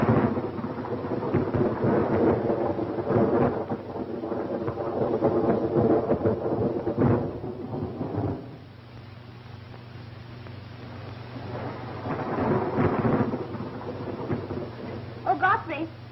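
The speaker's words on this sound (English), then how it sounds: "I'm sorry, but the storm might interfere." A thunderstorm in a 1934 film rumbles with rolling thunder and a steady hiss of rain, while people talk over it in a room.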